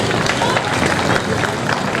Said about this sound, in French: on peut de façon patriotique s'applaudir d'abord